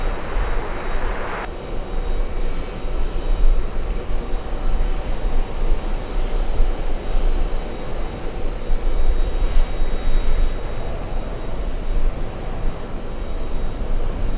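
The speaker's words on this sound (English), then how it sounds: "Air India beginning its taxi to runway 22 right" An Air India airliner taxiing toward runway 22 right at JFK airport gives a continuous loud jet-engine roar, broad and steady throughout, with no speech.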